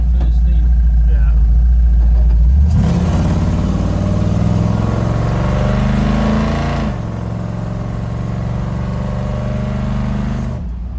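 A 1964 Ford F-100 pickup engine pulls up through the gears while driving, with a low steady drone that rises in pitch, drops at a shift and climbs again. People talk over the engine noise inside the cab.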